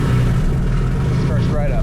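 A 1983 Porsche 911 SC engine, started after sitting for a couple of weeks, catches and runs as a loud, close, steady rumble. A voice talks over it throughout.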